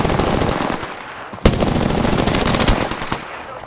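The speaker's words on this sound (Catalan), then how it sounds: "ens estan disparant des d'allà dalt" Sustained automatic gunfire in the Apex Legends video game, loud rapid bursts running almost continuously with one sharp louder shot partway through.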